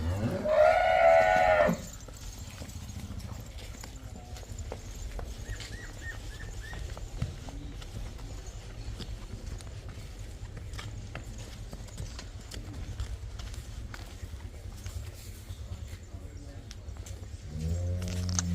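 Jersey cow hooves walking over farm ground, a steady close clip-clop with a rough outdoor background, and a brief voice or animal call at the start and end.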